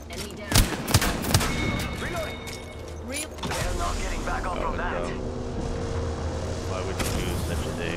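Gunfire from the Apex Legends battle royale game: a few sharp shots early on, followed by continuous game noise and mechanical clatter. A player talks over the action.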